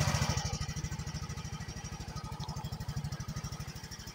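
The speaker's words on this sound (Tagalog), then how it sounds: "susubukan na natin kung aandar yung ating motor." A motorcycle engine runs after its throttle body and fuel injectors were cleaned, chugging close up in a fast, even pulse that settles into a steady idle.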